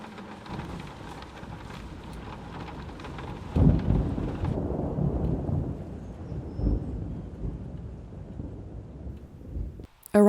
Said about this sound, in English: The rare sound of raindrops hitting the window feels like a rebirth.